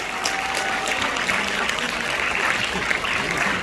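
Audience applause at a district-level science exhibition awards ceremony, a dense, sustained clapping from a large crowd that holds steady and fairly loud throughout.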